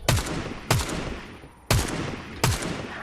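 Four loud, sharp gunshots in Fortnite, spaced unevenly about a second apart, each with a quick decaying echo and no voices over them.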